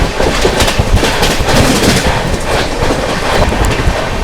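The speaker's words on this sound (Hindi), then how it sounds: "और ये आ गई दोस्तों एलटीटी जयनगर पवन एक्सप्रेस" The LTT Jaynagar Pawan Express passes close by, a loud, continuous rumble with rapid rattling wheel clatter and rushing wind sustained throughout.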